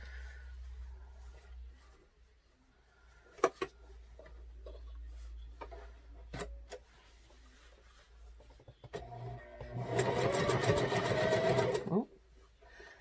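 A sewing machine stitches fabric for face masks, starting with quiet clicks and handling noises, then running in a short, close burst of rapid mechanical whirring before stopping abruptly.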